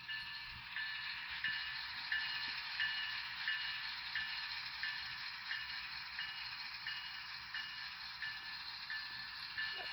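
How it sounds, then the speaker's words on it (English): BLI AC6000 model locomotive running on a model railroad track: a steady, close hum and whir with a faint rhythmic clicking from the wheels, continuous and even throughout. "And we'll run it up to my J locomotive that you see right over there."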